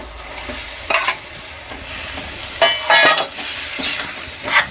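Minced meat (keema) sizzles steadily in a hot pan while a spoon stirs and scrapes, with a few louder clinks against the metal.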